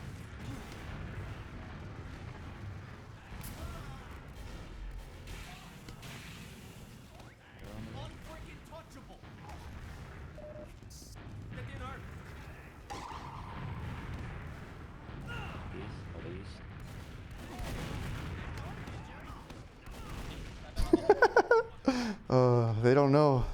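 Rockets explode in a fast-paced online shooter game, a busy mix of booms, crashes and mechanical clatter that builds into a burst of sharp blasts near the end, with a player talking over the action.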